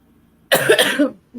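A close, loud burst of harsh coughing from choking, lasting under a second, with a short strained sound following.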